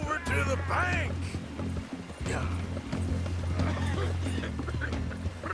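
A horse gallops with rhythmic hoofbeats in Red Dead Redemption 2, mixed with a snort or whinny over a steady low game soundtrack, and someone speaks briefly.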